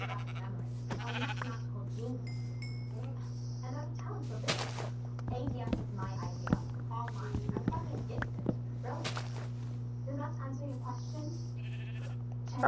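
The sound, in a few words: sheep bleating in the video game Minecraft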